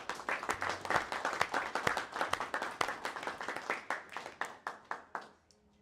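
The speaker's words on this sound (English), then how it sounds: "Give yourselves a round of applause again." Applause and clapping for a hackathon team at an in-person event, many hands clapping steadily and briskly, then thinning out and fading to quiet near the end.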